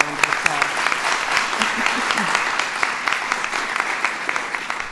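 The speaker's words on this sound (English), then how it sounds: "let's give her a round of applause" An audience applauds steadily at a First Lady's health care event, a dense, continuous wash of clapping that holds at a fairly loud level throughout, with faint voices mixed in beneath it.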